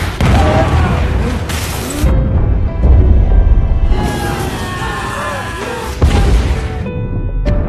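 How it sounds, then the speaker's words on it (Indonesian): A film explosion aboard a nuclear submarine in the torpedo room, with heavy booming rumbles and crashing bursts that swell and recede across the scene, loud and dense with low-end weight. "tiba-tiba terjadi ledakan kembali."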